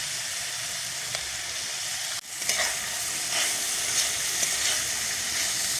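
Val bean pods with turmeric are stirred as they fry in a pan over a wood-fired chulha, a steady close sizzle broken by a spatula scrape partway through, then continued hissing, with no voices.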